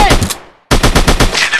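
Rapid automatic gunfire in the Ultimate Army Shooter video game, two loud close bursts of evenly spaced shots separated by a brief silence.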